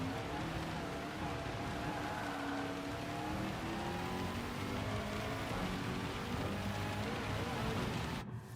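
Steady rain hiss in a Gran Turismo 7 race, with car engine drone and rising engine tones running continuously beneath an unbroken wash of rainfall throughout, no talking.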